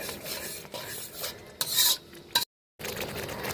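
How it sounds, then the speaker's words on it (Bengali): A spoon stirs and scrapes through katla fish curry with yogurt in a pan on low flame, giving soft rubbing strokes and a few sharper metallic scrapes, close by, with a brief silent gap near the end. "টক দইটা দেওয়ার পর লো ফ্লেমেই আমাদের নাড়াচাড়া করতে হবে"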